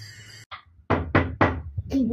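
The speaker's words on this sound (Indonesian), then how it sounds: "Bung, ada yang mengetuk pintu malam-malam begini." Someone knocks on a door at night in an Indonesian historical drama about the road to the proclamation of independence: three loud, close, hollow raps after a brief voice, with more talk starting just after.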